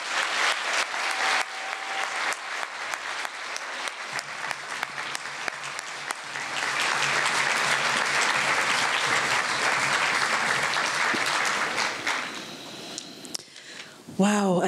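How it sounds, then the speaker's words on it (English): Gala audience at a healthcare awards event applauds steadily for about twelve seconds, a dense, loud wash of clapping that swells midway and then fades, followed by a brief voice at the end. "Wow, another round of applause, please, for Holly Prince."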